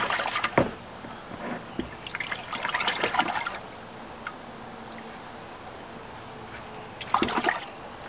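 Water splashes and trickles over main-vein silver ore as it is washed, in a few bursts of pouring and dribbling with quieter pauses between, close and fairly loud, with no talk.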